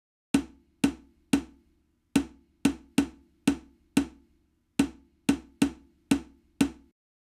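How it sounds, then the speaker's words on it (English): Congas in a zouk/kizomba-style beat give about fourteen sharp, resonant hand hits in a syncopated repeating pattern. Each hit decays quickly, close and clear, with no other instruments or voices. "we start off with the congas"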